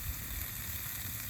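Food sizzles in a hot Calphalon pan on a camp stove, a continuous crackling hiss with small spattering pops, close and steady for the whole moment.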